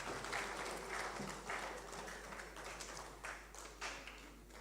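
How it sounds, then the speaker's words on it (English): Conference audience applauding in a hall, a steady wash of many hands clapping that stays fairly even for several seconds with no talk over it. "Another round of applause."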